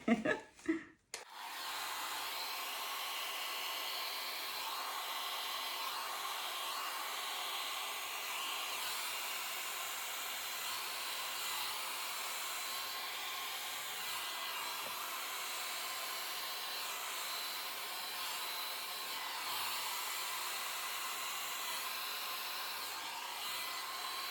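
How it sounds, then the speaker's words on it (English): A hair dryer blowing on a Dutch pour acrylic painting, a constant broadband whoosh, starting after a brief bump and running loud and unbroken to the end. "The state of my hairdryer, because I've been doing so much blowing with it just lately"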